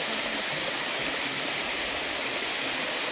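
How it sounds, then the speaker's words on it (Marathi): A river flows through a forest wildlife sanctuary with a loud, continuous broadband rush of moving water, steady and close with no pauses and no voices. "तर हे आपण जे इथं सध्या उभे आहे ती नदीच आहे."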